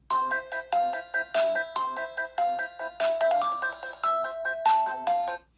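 A melodic ringtone blares from the single bottom-firing speaker of a BLU Vivo XI+ phone, a loud, bright chiming tune of quick repeated note bursts played steadily with no voices.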